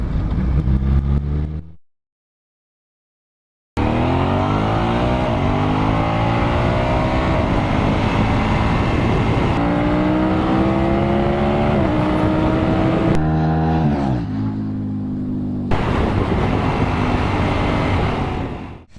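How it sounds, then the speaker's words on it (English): A Suzuki TL1000R V-twin motorcycle on a ride, its engine loud and close and rising and falling in pitch through gear changes, with a brief silent gap near the start and no talk. "riding the lovely TLR twin"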